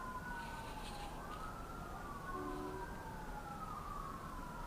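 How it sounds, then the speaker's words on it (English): Faint, distant traffic from a highway carries across a farm at night as a soft, continuous wash, with a siren's rising and falling wail threading faintly through it; no one speaks. "we can hear the traffic from, like, the highway"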